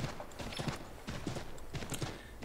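Horse hooves clip-clop at a steady riding pace in Assassin's Creed III, a rhythmic run of soft thuds sitting inside a continuous noisy game soundscape without speech.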